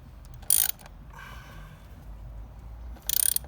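A ratchet wrench tightens the front wheel axle nut on a Honda Bali scooter, giving two short bursts of rapid clicking about two and a half seconds apart, close and crisp over a quiet room.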